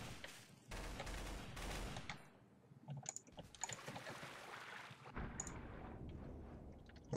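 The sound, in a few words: gunfire in video game Garry's Mod Trouble in Terrorist Town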